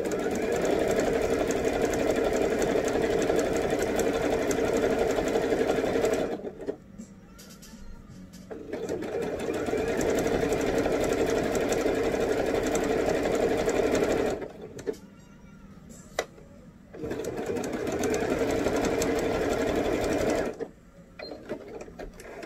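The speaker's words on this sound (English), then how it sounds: "go ahead and sew the side seams together on your belt" A sewing machine stitches the side seams of a bell sleeve, running in long steady whirring bursts with three brief pauses in between, close and continuous with no talk over it.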